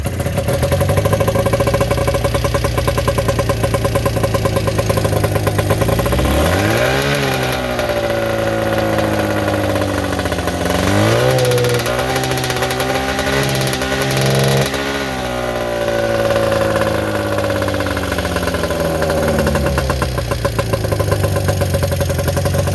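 An Arctic Cat 440 snowmobile engine starts and idles loudly up close, then revs up and down in several rising and falling bursts before settling back to a steady idle.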